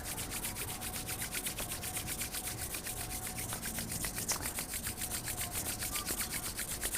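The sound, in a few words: hands rubbing together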